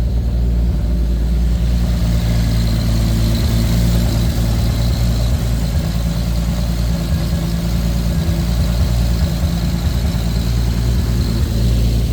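A 2JZ-GTE swapped Lexus IS300 idles on a basic startup tune, a loud, close, steady low rumble with a slightly lumpy, uneven pulse that holds constant throughout.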